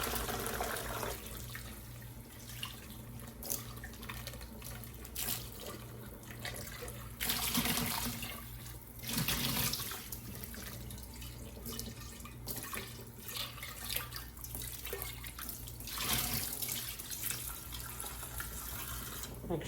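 Water runs from a kitchen tap into a sink while beef is rinsed, a steady splashing flow with louder surges and clatters now and then, and some talk in the background.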